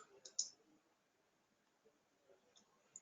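Faint, sparse computer mouse clicks sound in a quiet room while pharmacy software is being used, a few crisp clicks scattered across a few seconds.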